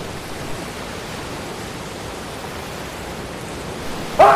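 Rain falling on a stormy night in a cartoon ghost story, a soft, steady hiss of pouring water throughout, slightly louder at the very end, with no talking.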